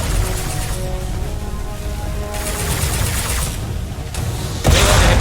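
Heavy weapon fire in the sci-fi shooter Mass Effect 2: a dense, sustained roar of blasts and rumble runs throughout, ending in a sudden, louder burst.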